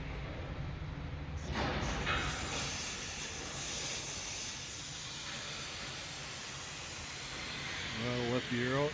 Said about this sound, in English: I have these that go on the valve pin to let all the air out